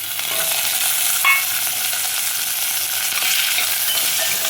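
Carrot, onion and green chili sizzle and fry in hot oil for a tempering, a steady close crackle with stirring scrapes running throughout, with no talking.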